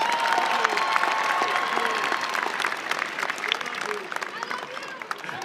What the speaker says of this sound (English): One more round of applause for the senator